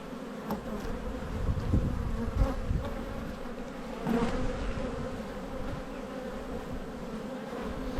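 Honeybees buzz steadily around an open hive during spring inspection, a dense continuous drone close by with slight swells, no voices.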